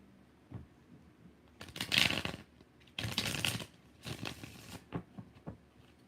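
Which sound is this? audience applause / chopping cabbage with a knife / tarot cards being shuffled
tarot cards being shuffled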